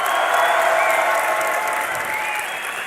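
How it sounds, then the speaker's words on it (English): A large esports hall crowd at a League of Legends tournament applauds and cheers loudly, a dense, continuous roar of clapping and shouts that fades slightly toward the end. "But now who is cheering for the unorthodox 7C6 Seaman?"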